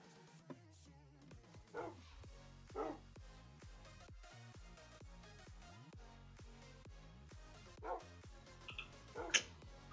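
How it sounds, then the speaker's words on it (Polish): A dog in Minecraft barks and yips several times at scattered moments, faint and somewhat distant, over a quiet background of rhythmic game sounds. "Jeszcze mój pies już dogorywa."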